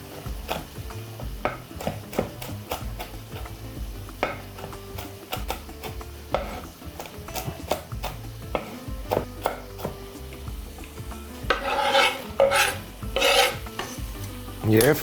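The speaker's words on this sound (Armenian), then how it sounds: "40 գրամ ընկույզը հարիչի ամանի մեջ, ինչու է հարիչի մեջ, կտրատենք դանակով" A knife chops walnuts on a board with a quick series of sharp, close taps and scrapes. A denser burst of rasping cuts comes near the end, and no one speaks.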